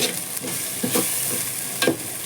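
Spices for tempering sizzle and crackle in hot oil in a pan while colour (bagara) rice is cooked, with a steady frying hiss and a few louder spitting bursts, close up and with no talking.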